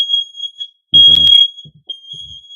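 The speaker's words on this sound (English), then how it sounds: "I was toasting up a tortilla. Set the fire alarm off." A household smoke alarm, set off by a tortilla being toasted, gives a loud, steady high-pitched electronic beep in repeated bursts, with a voice talking briefly under it.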